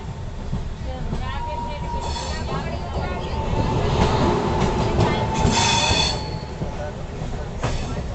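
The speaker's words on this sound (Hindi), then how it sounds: "दूसरी तरफ किसी ट्रेन का डिपार्चर हो रहा है आगरा कैंट स्टेशन से" A train departs Agra Cantt station in India with a steady rumble of rolling wheels, rising metallic squeals and clanks, and a voice talking over it.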